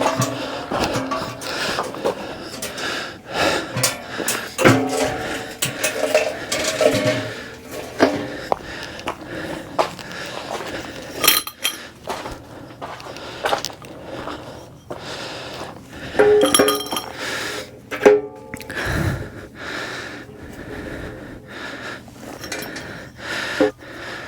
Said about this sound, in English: I actually want to take it back outside to turn it upside down so I don't get any ash inside of the tent